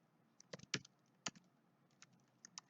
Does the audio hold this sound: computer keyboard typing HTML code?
yes